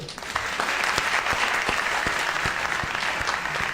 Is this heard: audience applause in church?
yes